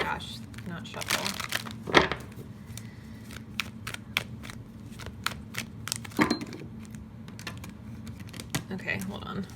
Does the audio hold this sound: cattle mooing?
no